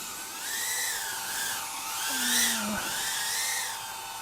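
The brushless motors of an Eachine Trashcan 75 mini FPV drone give off a high, steady whine that rises and falls with the throttle, close and fairly loud. A brief lower tone cuts in partway through.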